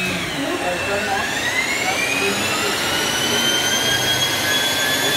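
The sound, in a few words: Pratt & Whitney PT6A turbine engine starting up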